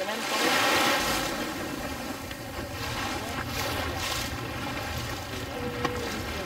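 A boat runs on the water at Grand Baie, Mauritius, with steady engine drone, wind buffeting the microphone and water rushing past throughout, fairly close and continuous.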